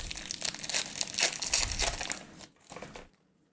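A Theros booster pack wrapper crinkles and tears open in close, loud rustling bursts, then tapers into a couple of softer crinkles before going quiet.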